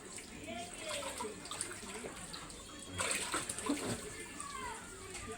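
Water sloshes and splashes as it is scooped and poured, with a louder splash midway; voices talk softly in the background.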